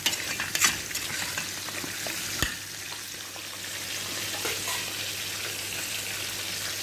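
Rice cooking with fish and black lemon in a pot, stirred with a steady scraping swish over a continuous close sizzle, with a few sharp utensil knocks early on.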